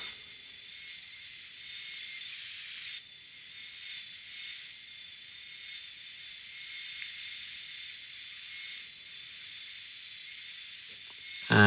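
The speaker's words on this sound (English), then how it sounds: "I can't believe the difference from using a brand new bandsaw blade" A bandsaw fitted with a brand-new blade cuts through scrap wood, making a steady, thin, hissing whine. The sound runs continuously at an even level, with no talk.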